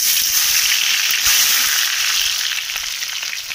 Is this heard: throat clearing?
no